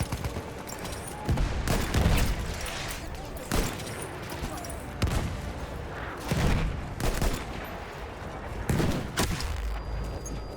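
Rifle gunfire in Battlefield 1, with an experimental M1903 in use, sounds as loud repeated cracks and booms roughly every second or two, heavy sustained shooting with a voice speaking in between.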